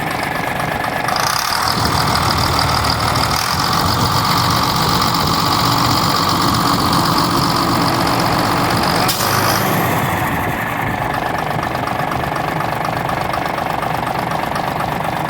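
A MAN D0826 LOH18 truck diesel rated at 260 hp runs loud and steady at its first start, a continuous rough idle with a knocking rattle that holds unchanged for the whole stretch.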